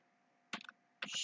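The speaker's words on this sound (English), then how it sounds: "Let's type it in there" Two quick bursts of typing on a computer keyboard, a few close clacking keystrokes, a pause, then another short run of taps over a faint hum.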